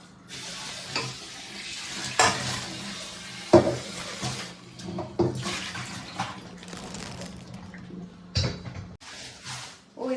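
Oil sizzles and crackles in bursts as raw banana slices are dropped from a slicer into a hot pan for chips, with clattering and stirring noises between.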